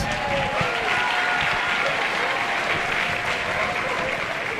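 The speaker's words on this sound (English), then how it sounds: "How about another big round of applause for our 6th grade band?" Warm, dense applause from a school concert audience for a 6th grade band at a spring concert, continuous and even for several seconds with a faint hum of crowd voices underneath.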